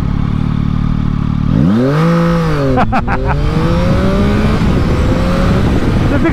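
A 2022 Yamaha MT-09 motorcycle engine pulls hard, its pitch sweeping upward through quick gear changes, loud and close under heavy wind rush, with a brief spoken word.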